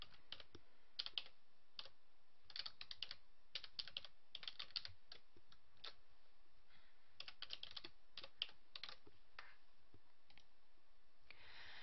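Someone types on a computer keyboard in irregular bursts of crisp key clicks with short pauses between them, close and fairly quiet, with no voices.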